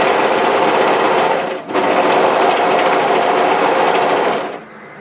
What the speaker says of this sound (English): So go ahead and overlock as far as you can in one motion